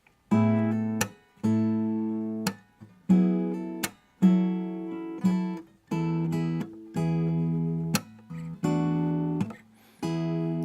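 An acoustic guitar plays a short ornamental lick, a series of plucked chords and notes ringing out with brief pauses between them, clear and close.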